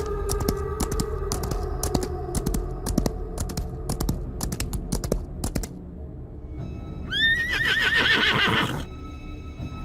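Hooves clop in quick irregular beats as a horse carries a king through a forest at night, followed by a loud, close, quavering whinny near the end.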